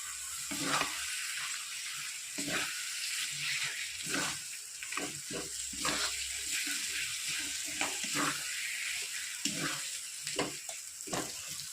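Masala with chopped tomato for egg curry sautéing in a pan, a steady sizzling hiss broken by repeated scraping stirs of the spatula, close and moderately loud.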